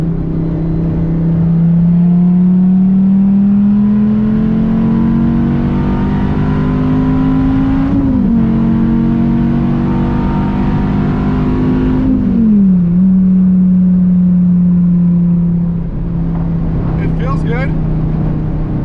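A car engine revs after pulley alignment work, with its pitch climbing, holding and falling across several throttle blips, loud and close, under occasional talk.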